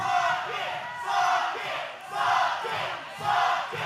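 A wrestling arena crowd at an OVW show chants and jeers in loud rhythmic waves, swelling and dipping roughly every second, a massed roar of voices close and unbroken.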